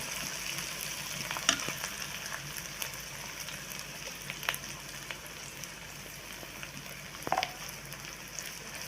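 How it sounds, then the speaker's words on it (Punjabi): Coarsely crushed garlic fries in a pan with a soft, steady sizzle close by, marked by a few scattered stirring clicks and light scrapes, quiet overall with no voices. "ਜਿਹੜਾ ਲਸਣ ਆਪਾਂ ਦਰਦਰਾ ਜਿਹਾ ਕਰਿਆ ਸੀ ਇਹ ਵੀ ਵਿੱਚ ਪਾ ਲੈਣਾ ਇਹਦੇ ਵਿੱਚ ਪਾ ਕੇ ਭੁੰਨ ਲੈਣਾ"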